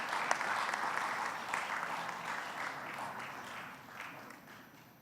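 An audience at an innovation award ceremony applauds, with a steady, dense clapping crowd that slowly fades toward the end.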